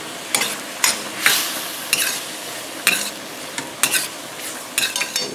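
Food frying in a pan with lemon juice added near the end of cooking, a soft steady sizzle broken by repeated sharp scraping and stirring clatters at irregular intervals, close and clear.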